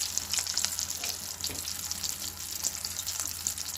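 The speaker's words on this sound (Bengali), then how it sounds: "আরও তিরিশ সেকেন্ড মতো ভেজে নেবো এপিট ওপিট" Rupchanda pomfret fish frying crisp in hot oil, a steady dense sizzle with a few soft clicks and crackles throughout, close and fairly loud, with no voices.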